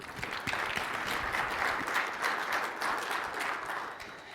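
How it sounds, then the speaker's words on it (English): Audience applause for co-speakers at the close of a technology conference session, a steady, dense wash of many hands clapping throughout, moderately loud with no talk. "just want to give an applause to all of our co-speakers today"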